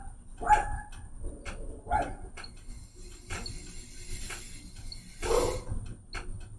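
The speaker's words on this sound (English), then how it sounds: "He just really likes getting that one dog all riled up." A dog across the street barks in a residential neighborhood in Houston, Texas, giving several sharp, mid-distance barks in irregular bursts with short pauses between them.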